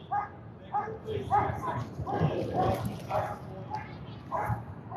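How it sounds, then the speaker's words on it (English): A pack of police dogs barks and yips continuously, overlapping one another at middle distance, with faint voices mixed in, during a major downtown Vancouver police standoff. "Dogs are barking. Those seem like police dogs."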